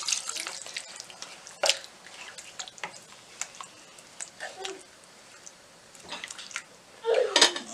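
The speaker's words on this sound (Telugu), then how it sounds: "ఇందులో కొంచెం వాటర్ పోసుకొని" Water is poured into a pan of Indian-style chicken curry, making uneven splashing and trickling with brief louder gushes at the start and near the end.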